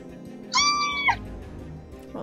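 A crane's call in the Feather Family video game: one bright, harmonic, slightly wavering cry about half a second long, loud and close over quiet background game ambience.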